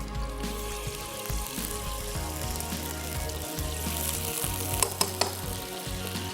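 Garlic-ginger paste with long-cut garlic sizzles steadily in hot oil in a pan, a close, continuous frying hiss with a few faint clinks and no talking.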